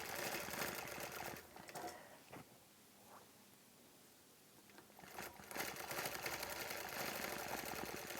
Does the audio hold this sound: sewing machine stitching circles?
yes